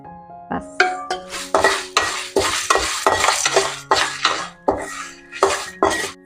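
Dried red chillies and cumin frying in a drop of oil over a low flame while a metal spoon stirs, producing a rhythmic series of sharp scraping clanks against the pan, each followed by a brief sizzle, close and without speech.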